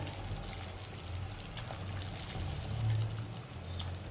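Chicken breasts are lowered into two liters of boiling water in a pot, giving a continuous bubbling, splashing wash with a low rumble underneath, steady and close throughout.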